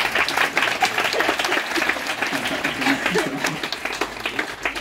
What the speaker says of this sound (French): on peut applaudir Jean-Paul.